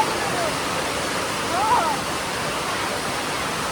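A steady, loud roar of rushing water fills the whole stretch, broad and unbroken, with a brief faint tone rising and falling in the middle.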